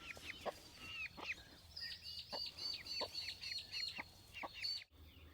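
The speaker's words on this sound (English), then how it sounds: "We've got another broody hen." A broody hen clucks in rapid, repeated short calls close by, a busy rhythmic series of sharp clucks over quiet background hum.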